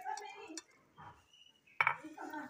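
A spoon stirs and mixes macaroni chaat with potato, chickpeas, chopped coriander, green chilli and chaat masala in a bowl. A few sharp metallic clinks and soft scraping sounds come through while a voice talks.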